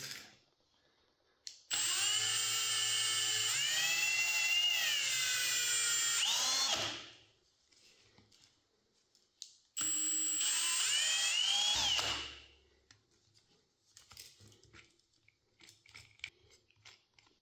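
A small portable lathe polishing shelf-rack parts with polishing compound whirs up in two bursts of several seconds each, a high, steady whine that changes pitch slightly under load before spinning down, with quiet handling clicks between and after.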